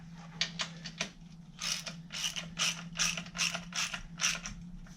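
Rapid bursts of ratchet clicking tighten bolts during a SmittyBuilt X2O 12000 lb winch install on a 2020 Jeep Wrangler JLUR, repeated strokes in a quick rhythm over a steady low hum, close and fairly quiet.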